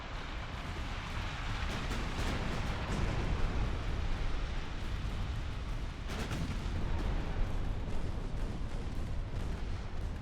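A torpedo strikes a ship in the naval battleship game Ultimate Admiral: Dreadnoughts, setting off a heavy, rolling explosion with thick low rumble and overlapping bursts that sustain throughout at a loud, fairly close level.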